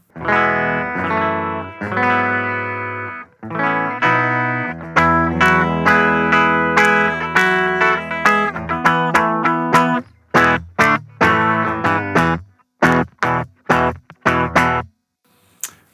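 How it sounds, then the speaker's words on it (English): An electric guitar with single-coil pickups plays chords and picked notes through an Orange Crush 20RT amplifier's clean channel with a bright, lightly effected tone, ending in short staccato stabs separated by brief silences. "we'll give you a run through of some of the sounds on this guitar"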